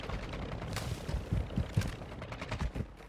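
Bursts of AK rifle fire in a Warzone match, rapid cracking shots in several clusters over a steady background din, fairly close and moderately loud.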